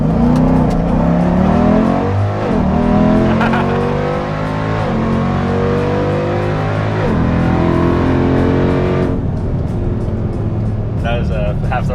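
A Jeep Trackhawk accelerating hard on a public road, its engine roaring loudly and continuously with rising, shifting pitch through the gears, while people talk excitedly over it.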